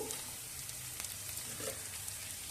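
Chopped okra tipped into onions already frying in a pan, giving a steady close sizzle with a few brief stirring scrapes and no talk.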